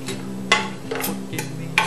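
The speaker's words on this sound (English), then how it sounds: "dice up a quarter of an onion here" A sharp knife dices a quarter of an onion on a cutting board. A few evenly spaced crisp chops sound close over a steady low kitchen hum.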